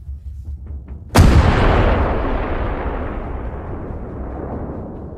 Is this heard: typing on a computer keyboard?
no